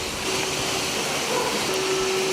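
Baby potatoes fry gently in a pan over a low flame. A steady, soft, broadband hiss holds at a moderate level throughout, with a faint tonal hum beneath and no talking.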